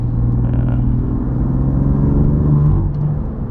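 Loud exhaust of a 700 hp BMW F80 M3 running E85, heard from inside the car as a continuous deep rumbling drone with a steady low note, no speech.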